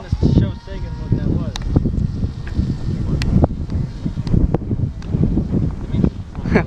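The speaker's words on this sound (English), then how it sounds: "Wow, that's windy." Gusty wind blows into the microphone outdoors at a flying field, a low rumbling roar running beneath people talking throughout, with sharp brief clicks scattered through.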